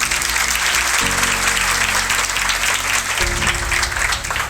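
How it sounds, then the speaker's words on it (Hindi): Loud, sustained applause from a crowd, steady clapping throughout with a low musical drone underneath. "इसलिए जोरदार तालियां"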